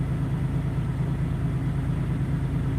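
A truck's engine runs in a steady, close low rumble with a strong droning hum, revved lightly while idling, its pitch and level barely changing throughout.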